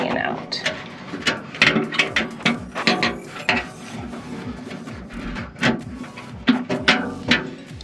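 Bolts on a metal garden raised bed tightened with the small supplied tool, producing irregular close clicking and ratcheting metallic taps, with a voice talking at times.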